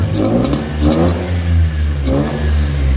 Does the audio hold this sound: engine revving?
yes